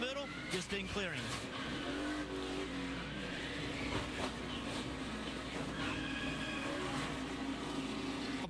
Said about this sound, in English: Larson just gets loose, car goes around, tries to shoot the middle, just didn't clear him.